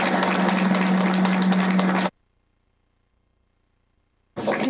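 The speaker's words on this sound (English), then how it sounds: "Let's give him a round of applause." An audience at a city council meeting applauds, a steady burst of clapping over a low electrical hum that cuts off abruptly into silence, then resumes briefly at the end.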